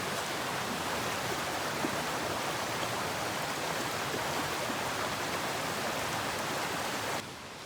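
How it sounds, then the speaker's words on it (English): A river flows right beside a campsite on the Appalachian Trail, a loud, steady, close-up rush of water that fills the whole stretch before easing slightly at the very end, with no talking. "We actually slept right on this river, which is amazing."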